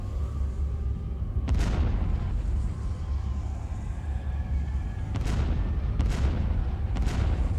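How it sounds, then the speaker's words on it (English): Missiles exploding in the space strategy game Star Wars: Empire at War, with four heavy booming blasts, one early and three in quick succession near the end, over a constant low rumble. "Here come the missiles."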